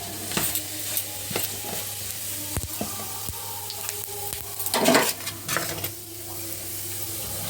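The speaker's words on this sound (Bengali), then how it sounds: "তেলটা তো গরম হয়ে গেছে, দিয়ে দেব গোটা জিরে তেলের মধ্যে।" Whole cumin seeds spit and sizzle in hot oil over a low steady crackle, with scattered sharp clicks and a louder stirring rustle midway, no voices.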